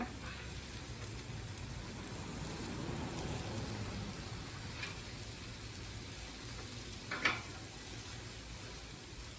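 Zucchini and onions cooking slowly in a pan give off a soft, steady sizzle and crackle, faint and continuous, with a couple of brief louder pops.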